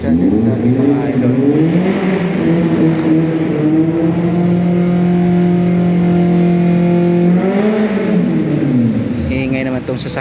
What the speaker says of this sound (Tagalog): Iingay naman tong sasakyan nito.